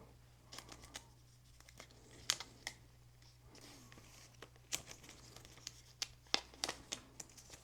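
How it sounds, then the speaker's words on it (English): Thin protective film being peeled off the Ray Neo Air 3s Pro glasses gives faint, close crinkling and crackling with scattered sharp ticks and tearing bursts, quiet between them, with no voices. "Let's see, is this a cover? And we'll go ahead and just peel that off."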